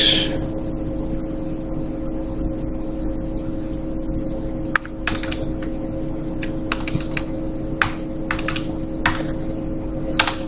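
Keys clatter on a computer keyboard while AutoCAD commands are entered, in irregular clusters of sharp taps over a constant low electrical hum.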